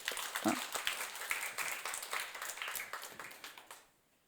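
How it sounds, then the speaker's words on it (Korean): A church congregation claps steadily for a few seconds during a Sunday sermon, moderately loud, then the applause fades out. "박수를 한번 보내주십시다"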